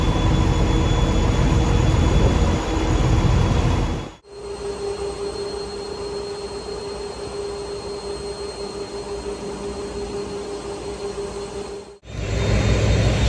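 Loud, steady engine-room drone aboard a small ferry, a constant low rumble and mechanical hum with a sustained tonal whine, briefly cut twice by abrupt drops, with no talking.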